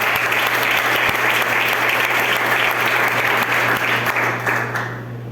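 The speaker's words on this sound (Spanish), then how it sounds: "Den un aplauso al Señor." Sustained applause from a church congregation during a Spanish-language worship service, dense and steady for several seconds, then thinning slightly near the end.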